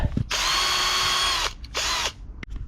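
A power drill bores a hole through a plastic plug behind the fuse box of a Honda Civic 4D: one long whirring burst, a short pause, then a second shorter burst, loud and close.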